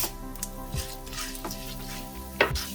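Urad dal frying in hot coconut oil with mustard seeds for a papaya thoran, giving a steady close sizzle broken by a few sharp pops and crackles, with one louder burst near the end.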